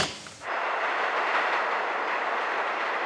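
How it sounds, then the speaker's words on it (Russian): Two trains passing in opposite directions suddenly roar past close by after a brief quieter moment, a loud continuous rush of rumbling, hissing clatter. "Это звук двух разъезжающихся поездов."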